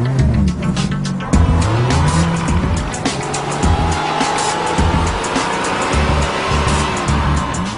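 A car racing at about 140 miles per hour on a road in Dubai, with a loud steady engine roar and rushing road noise, rising whines and occasional tire squeal throughout.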